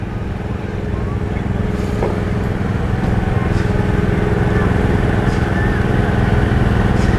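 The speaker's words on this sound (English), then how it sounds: "a 1961 Ford 501 offset rare vegetable tractor, owned and operated by Gilbert Dick from Litchfield" A 1961 Ford 501 offset vegetable tractor chugs past in an outdoor tractor parade, a steady, loud, rough engine drone that lasts throughout, with faint crowd noise around it.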